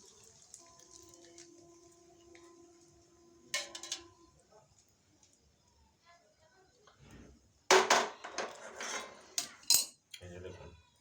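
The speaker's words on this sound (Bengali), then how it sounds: "ছেঁকে পরে এই যে আমি ছেঁকে নিচ্ছি ছাঁকনির মধ্যে দিয়ে।" Homemade desi ghee poured through a metal strainer: soft pouring trickles and a brief metallic clink early, then louder clattering scrapes and clinks of metal against the strainer and pot in the second half, close and fairly quiet.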